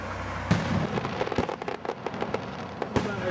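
Fireworks burst in a grand finale at a Fourth of July show in Gatlinburg, a rapid irregular barrage of distant booms and crackling pops heard from a crowd.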